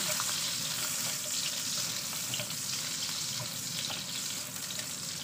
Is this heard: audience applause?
no